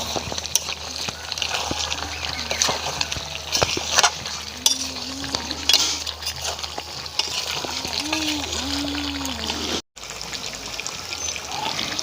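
Fried potatoes stirred through a pot of village-style chicken curry, a steady scraping and sizzling bubble running close and continuous while a voice talks over it.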